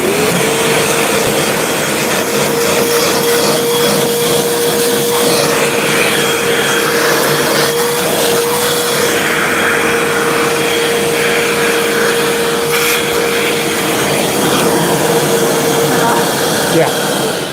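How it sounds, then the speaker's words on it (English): A vacuum cleaner runs steadily and loudly throughout with a constant whine, while people talk over it. "Vacuum. Vacuum."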